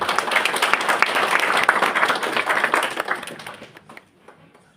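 A seated audience at the Boma Yangu 38th Kenya Homes Expo awards ceremony bursts into dense, loud applause that holds steady for several seconds, then quickly fades to near silence.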